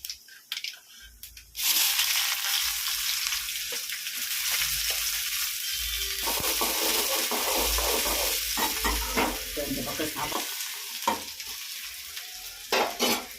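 Fennel seeds and spices hit hot sesame oil in a pan, bursting into a loud, continuous sizzle with crackling pops and occasional stirring scrapes, after a quiet moment at the start.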